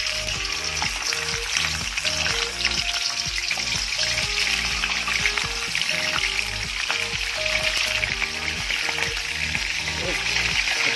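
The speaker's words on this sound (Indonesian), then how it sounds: "setelah minyaknya panas baru siap kita untuk goreng udangnya ya guys" Shrimp fry in hot oil with a steady, dense crackling sizzle that continues throughout at even loudness, with background music underneath.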